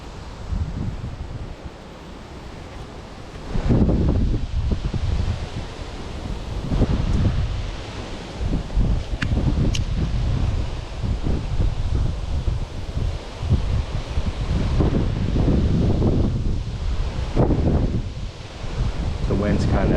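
Gusty wind at the mouth of a creek buffets the microphone, producing loud rumbling bursts and rushing noise that rise and fall throughout, with a person speaking briefly amid the gusts.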